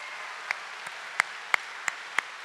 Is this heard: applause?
yes